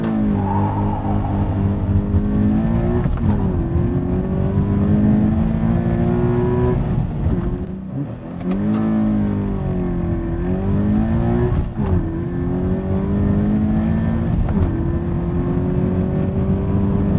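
A Toyota 86 accelerating hard from a standstill to 100 km/h, its engine note climbing steadily through the revs with brief dips at each upshift, loud and close throughout with no talk.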